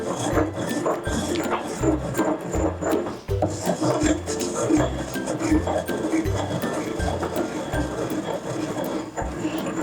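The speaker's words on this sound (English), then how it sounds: "you just sit there and crack the black peppers and then just start grinding" Black peppercorns cracked and ground in a granite mortar and pestle, a close, continuous gritty rubbing with a rhythmic scraping pulse and occasional knocks of stone on stone.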